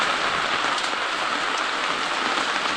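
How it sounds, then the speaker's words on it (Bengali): Heavy rain pours down in a dense, constant roar of drops on surfaces, loud and unbroken throughout, with no voices. "তো প্রচণ্ড বৃষ্টি হচ্ছে এইদিকে, এই যে সকাল থেকে বৃষ্টি হয়ে যাচ্ছে।"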